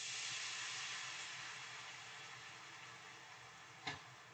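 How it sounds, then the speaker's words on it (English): White wine hits a hot pan of shrimp scampi, giving a steady broadband sizzle that slowly fades, with a brief clunk near the end. "How is that sizzle?"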